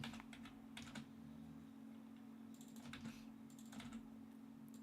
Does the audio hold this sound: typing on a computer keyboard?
yes